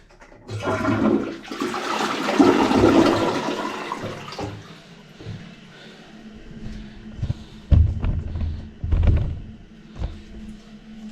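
A toilet with a Fluidmaster fill valve flushes with a loud rush of swirling water that fades into gurgling and refilling, with a few clunks near the end.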